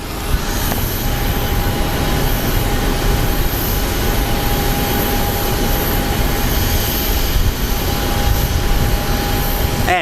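The Louisiana 1 jet taking off at Phoenix Sky Harbor, a loud, steady roar of engines with a sustained whine, holding constant throughout, with no voices.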